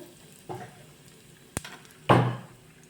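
Whole spices with mustard seeds and asafoetida hit hot oil for a South Indian sambar, giving a short sizzle and then a louder, fading crackle, with a sharp clink of a utensil between them; no one speaks.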